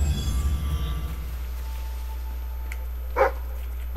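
A dog companion in the video game Fable 3 barks once, short and sharp near the end, over a quiet low game ambience with no talk.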